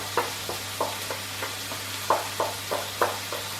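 Beef burgers mushed with red onion, garlic and lardons fry in a pan, with steady sizzling broken by regular scraping stir strokes roughly every third of a second, close and moderately loud.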